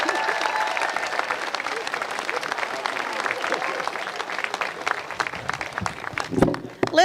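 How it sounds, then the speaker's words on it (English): Audience applause fills a statue dedication ceremony honoring Dawn Staley, a steady, dense clapping from a large crowd that carries on throughout, swelling slightly near the end. "Clap it up."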